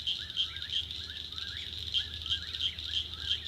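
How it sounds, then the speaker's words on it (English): Two whippoorwills call outdoors near an off-grid cabin, their repeated whistled phrases coming in a steady rhythm. The calls are faint and distant over quiet background noise. "There's two of them out there now, whippoorwills."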